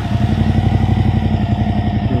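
Suzuki V-Strom 1050XT twin engine fitted with an Akrapovic exhaust, revving with a deep, bassy, steady pulsing throb that stays loud and close throughout.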